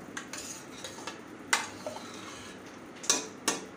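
A utensil stirs water into masale bhat rice in a pot, giving faint scraping swishes with a few sharp clinks of metal against the pot, quiet and irregular.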